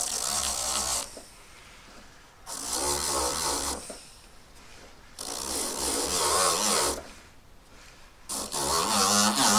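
A power tool's rough, grinding whir in repeated bursts of a few seconds each, separated by short pauses, like a rotary sanding drum pressed against metal while shaping a pendant.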